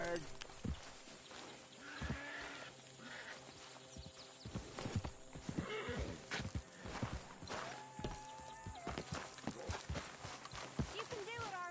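Horse hooves clip-clop along with snorts and a whinny in the Red Dead Redemption 2 video game, steady irregular footfalls fairly close, with spoken game dialogue over the top.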